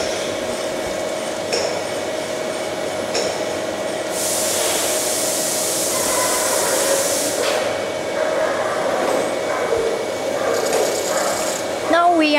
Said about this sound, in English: This is our centrifuge grinder. He is using it to grind the diameter of punches as per drawing.